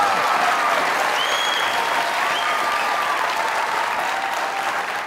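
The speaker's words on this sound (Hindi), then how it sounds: "इतनी ही तालियां इस शहजादे के लिए।" Sustained audience applause at a studio comedy show, a dense, steady wall of clapping from a large crowd lasting throughout, loud and close with faint voices mixed in.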